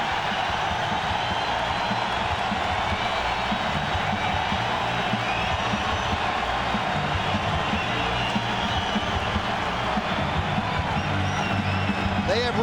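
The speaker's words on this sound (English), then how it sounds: "And listen to the crowd for Hideki Matsui." A large Yankee Stadium crowd on a cold opening day cheers Hideki Matsui during a 2003 Twins vs Yankees baseball game, a dense, steady roar that holds at an even level throughout.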